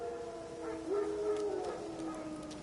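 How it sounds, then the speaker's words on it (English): Wild dogs howl in a PS4 video game, a sustained, wavering tonal howl that rises and holds in the middle, with faint yips and other distant canine calls around it and no talk over it. "No. Wild dogs. Yes. More dangerous than wolves."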